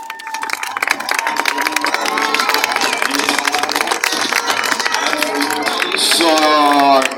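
Crowd applause and cheering at an outdoor monster truck show, a dense, steady wash of clapping with mixed voices that keeps up throughout, and a whistle or siren-like tone rising near the end.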